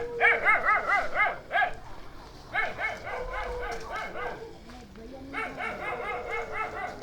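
Several dogs bark and yip in repeated bursts, loud and close, with whimpering between volleys, in a neighbourhood setting in Bohol, Philippines.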